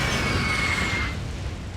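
Artillery barrage in a World War One Total War mod: a deep rumbling boom rolls on and slowly fades, with a thin high whine fading out near its start.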